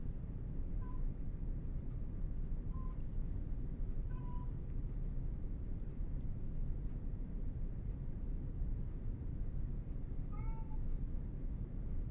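Several faint, short meows come through at scattered moments over a steady low background hum, distant and soft.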